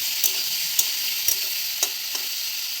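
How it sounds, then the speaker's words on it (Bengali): Okra sizzles steadily in a hot frying pan, a continuous bright hiss broken by a few sharp stirring scrapes spaced about half a second apart, close and fairly quiet with no voices. "ঢেঁড়স ভাজি করে নিচ্ছি।"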